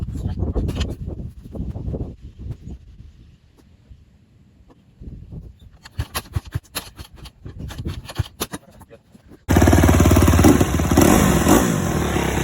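Cold Honda CRF150R dirt bike with new valve shims, heard as rough clattering kicks and sputters before the engine catches and settles into a loud, steady close-up idle.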